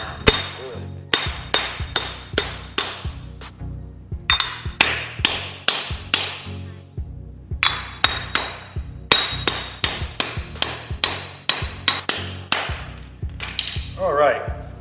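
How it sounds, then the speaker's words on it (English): Repeated sharp metallic hammer blows knocking wheel studs out of a Nissan 240SX wheel hub ring out in quick bursts, loud and close, with short pauses between groups of strikes. "So now we just gotta take a hammer and knock these"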